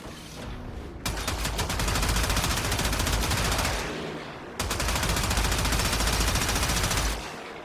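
Sustained automatic weapon fire in the Warframe video game, two long, loud bursts of rapid rattling shots separated by a brief pause.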